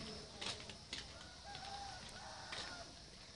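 Chickens on a rural farm cluck and squawk faintly in scattered bursts, with a soft crow-like call, over low outdoor background noise.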